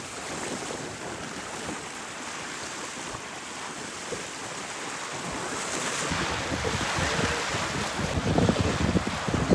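Sea waves wash in at the shore near Dornoch in Scotland, a steady rushing surf that swells louder toward the end, heavily mixed with gusty wind buffeting the microphone and no talking.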